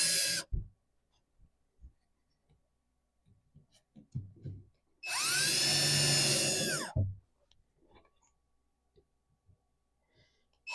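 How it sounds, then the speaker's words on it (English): A power drill drives screws into the wooden boards of a raised garden bed, loud and close in a couple of whirring bursts, the longer one about two seconds, separated by quiet handling noises. "be careful with the drill if you decide to drill"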